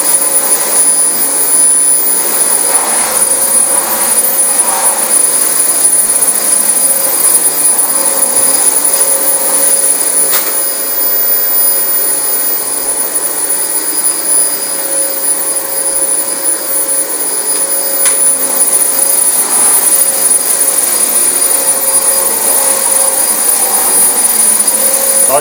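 A Dyson DC25 upright vacuum cleaner running over a filthy carpet, a loud, steady, close whine and rushing roar that holds for the whole stretch with only slight swells, with no voices.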